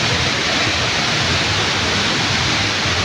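A waterfall beside an aquarium, a steady, loud, broadband rush of falling water with no breaks or talk.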